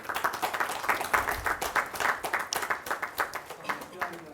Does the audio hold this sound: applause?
yes